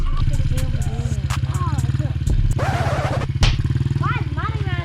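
A Honda CRF dirt bike engine runs close by with a steady, throbbing idle and a few sharp revs, while people talk over it.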